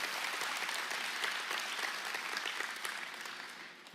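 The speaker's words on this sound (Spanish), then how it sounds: "Vamos, fuerte ese aplauso." Steady applause from a church congregation fills the room, a dense wash of many hands clapping at an even level before tapering slightly at the end.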